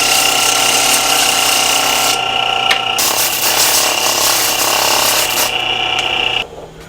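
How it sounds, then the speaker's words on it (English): Grinding machine removing nodes from a piece of material, giving a loud, steady, harsh rasping whine that runs throughout and cuts off abruptly near the end. "You are going to remove the nodes that way. This grinding machine"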